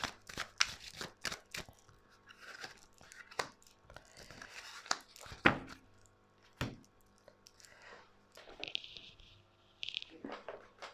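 Tarot cards being shuffled and riffled during a card reading, giving repeated crisp flapping and snapping bursts close by, with some quieter rustling between them and a voice speaking at times.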